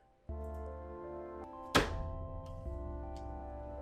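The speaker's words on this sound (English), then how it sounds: "The sound of a chair thrown across the room. There's a thud from the wall." A chair thrown across a room smashes into the wall with a single heavy thud, a sharp loud impact that rings briefly over a steady droning hum in the background.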